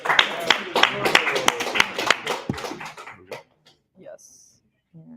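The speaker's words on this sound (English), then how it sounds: "Give a round of applause to them." A burst of clapping from a class audience at a course presentation, brisk and fairly near, thinning out after about three seconds into scattered small sounds and silence.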